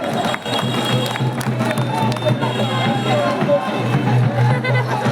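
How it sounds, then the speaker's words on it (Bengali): A crowd claps together at an outdoor BNP political rally at Shamgram High School, steady sustained applause mixed with crowd babble and some voices, close and fairly loud. "আমরা তাদেরকে করতালির মাধ্যমে শুভেচ্ছা এবং অভিনন্দন জানাই"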